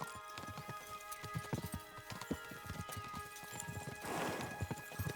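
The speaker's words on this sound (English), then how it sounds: "We should spur the horses on." Horses in Kingdom Come Deliverance II clatter at a fast gallop, a dense run of hoof beats close by that stays loud and steady throughout, with no voices over it.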